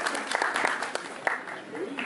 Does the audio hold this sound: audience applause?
yes